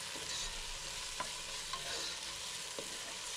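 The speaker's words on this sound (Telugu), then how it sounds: "తర్వాత కొత్తిమీర, పుదీనా కూడా వేసుకొని బాగా కలిసే విధంగా కలుపుకోండి." Tomato masala with salt, coriander and mint is stirred in a hot pan, giving a constant soft sizzle broken by a few distinct spoon scrapes and clicks. No one talks.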